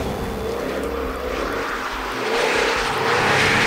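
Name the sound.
Jaguar F-Type V8 S supercharged 5-litre engine sound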